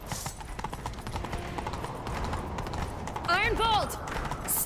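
Horse hooves gallop in The Witcher 3 video game, a fast continuous clip-clop under a noisy chase scene, with a whinny-like cry near the end.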